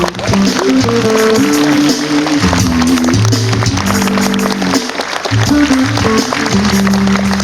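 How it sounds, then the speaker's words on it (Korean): Applause rises at an outdoor lotus festival at a Buddhist temple, loud and continuous, mixed with a steady musical tone and some crowd voices underneath. "큰 박수 부탁드리겠습니다."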